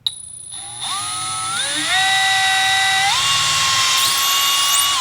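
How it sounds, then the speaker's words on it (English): A power drill drilling pilot holes into a flange whines steadily up close, its pitch rising in steps as the motor speeds up, running loud and continuous. "We're going to drill some pilot holes into our flange."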